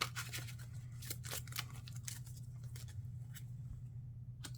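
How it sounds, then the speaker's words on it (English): Cards being shuffled for a Marvel Champions card game, a quick run of crisp riffling snaps and patters up close over a steady low hum. "Let's give me a shuffle and look at the rest of my hand."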